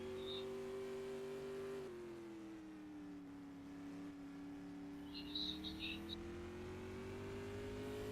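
A sprint car on a time trial lap at Oswego Speedway, its engine a steady droning tone that dips and rises as it circles the track, heard at moderate distance under a public address commentator's voice.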